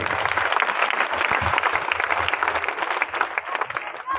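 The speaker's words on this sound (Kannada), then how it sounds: "ಜೋರಾಗಿ ಚಪ್ಪಾಳೆಯನ್ನು ಬಾರಿಸ್ಬೇಕಾಗಲ್ಲ" An audience breaks into loud, sustained applause, a continuous dense wash of many hands clapping at once, with faint crowd murmur mixed in.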